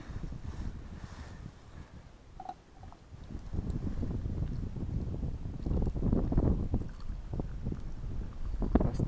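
Wind gusts across a frozen winter taiga lake at about minus five degrees, a low rumbling buffeting roar on the microphone that swells and eases, with no talk.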